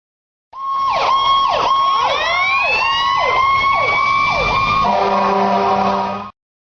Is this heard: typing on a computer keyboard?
no